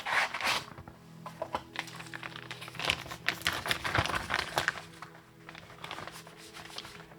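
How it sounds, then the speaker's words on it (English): Sheets of photographic paper are lifted out of a safety box in a darkroom, giving soft crinkling, rustling and scraping handling noises up close, with no talking. "Let me just pick my paper out of the safety box."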